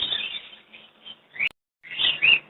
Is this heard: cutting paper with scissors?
no